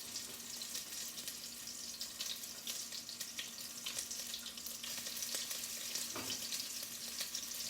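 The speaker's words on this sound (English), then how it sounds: "we're going to sear them in the pan just like that." Meatballs searing in a pan, a quiet continuous crackling sizzle with occasional louder pops and sputters, no talking.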